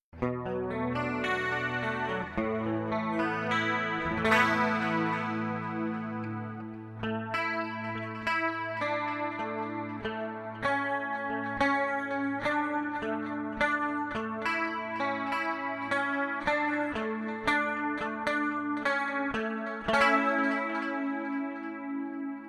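Electric guitar on an 80s-style preset through a HOTONE Pulze Mini headphone amp, played as a continuous run of chords and single notes with chorus and echo shimmer, steady and upfront with no talking.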